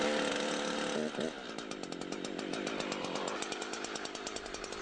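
A Husqvarna chainsaw revs and then settles into a steady buzzing cut through a tree, loud and close, running continuously without voices.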